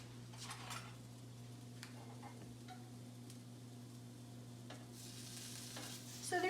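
Apple slices and winter squash turned over on a griddle: a quiet, steady sizzle over a low hum, with a few soft spatula taps and scrapes, and no talking.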